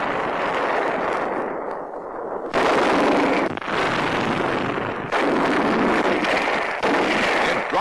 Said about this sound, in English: Constant, devastating mortar fire.